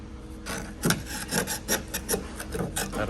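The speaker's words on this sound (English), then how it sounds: "I am in process of chiseling out this old seam sealer, getting it all clean" Hand chiseling and scraping old seam sealer from the body of a Cherokee Chief during paint and body restoration, a series of close, raspy scrapes repeating in an uneven rhythm with no talking.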